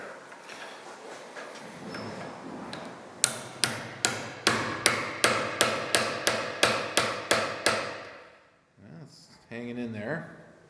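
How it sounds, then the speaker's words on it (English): Copper hammer tapping a machine arbor in a workshop: about a dozen sharp, evenly spaced metallic knocks at a steady rhythm, close and loud, followed by someone talking briefly. "I'm just going to tap it with a copper hammer on here."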